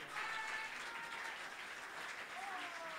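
Audience applause for a band at a live show, steady and fairly distant clapping throughout with some crowd noise and a few faint tonal sounds over it.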